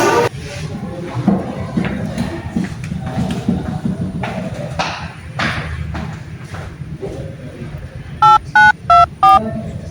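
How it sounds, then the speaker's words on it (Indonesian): Telephone keypad tones dialed near the end, four short evenly spaced beeps, following a stretch of talk and background bustle in a dramatized scene about Indonesian independence. "Bagaimana kalau kita hubungi Bung Karno terlebih dahulu?"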